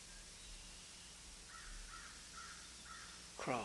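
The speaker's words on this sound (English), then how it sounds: "Crows cawing." Crows caw in a quiet outdoor setting, four short evenly spaced calls at moderate distance over a faint airy background, followed by a louder brief sound at the end.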